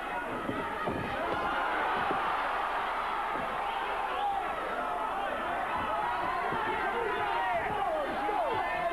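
A Sheffield boxing crowd roars and cheers for Ryan Rhodes during a bout against Otis Grant, a dense, steady wash of distant voices, with a commentator talking over it.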